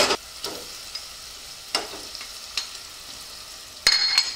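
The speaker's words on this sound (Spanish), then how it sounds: "Esperamos de que suelte todo el agua y se sofría un poco también toda la seta" Wild mushrooms sautéing in a pan with butter, a soft, low sizzle broken by repeated sharp utensil clicks and scrapes, with a louder clatter toward the end.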